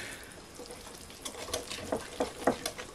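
Metal whisk beating flour batter in a bowl to break up lumps, giving a run of quick, close scraping and tapping strokes that grow louder and more rhythmic toward the end over a soft kitchen background hiss.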